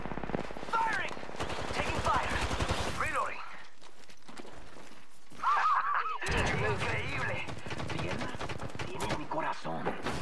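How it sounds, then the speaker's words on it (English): Rapid bursts of automatic gunfire from the video game Apex Legends crackle over game music and effects, with a short quieter gap midway before the firing resumes. "Taking fire."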